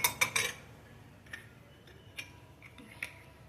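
A spoon stirs sweet corn soup with butter in a pot, giving a quick burst of sharp metallic clinks followed by sparse, lighter taps against the side, faint and close.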